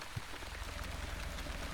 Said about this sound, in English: Looks like it is raining. Light rain.